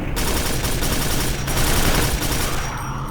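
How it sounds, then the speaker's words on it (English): A machine gun fires in Quake 4, a loud rapid unbroken burst of shots that runs for about three seconds and tails off at the end, with no talking. "It feels a bit like the Doom 3 machine gun, especially with the firing sound."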